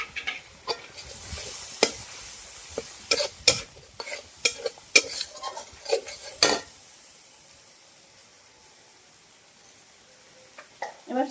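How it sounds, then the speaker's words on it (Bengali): Cashew paste and tomato paste masala stir-fried in a pan for doi potol, with a spatula scraping and clinking in quick irregular strokes over a soft sizzle, then a quieter stretch of gentle frying before a few last scrapes. "কাজু বাটাটা দিয়ে দেব। কষে নেব।"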